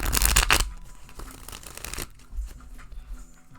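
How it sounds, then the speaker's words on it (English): Tarot cards being shuffled close by: a dense riffling burst, then softer sliding and flicking sounds, with a second brief riffle near the end. "I'm going to shuffle your cards up."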